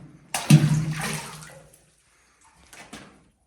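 A small stone drops into deep water inside an old war fort, landing with one sharp splash followed by a short gurgling wash, then a fainter second splash or drip after a pause.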